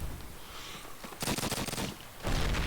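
Grenades going off in a Call of Duty: United Offensive match: two bursts of rough, crackling blasts, the second lasting to the end, over a constant noisy game background, with no speech.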